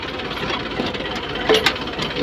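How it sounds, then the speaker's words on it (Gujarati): A New Holland diesel tractor engine chugs steadily at close range, a rough knocking rumble with a brief squeak partway through. "આગળ મિત્રો ટ્રેક્ટર છે ન્યૂ હલેન્ડ"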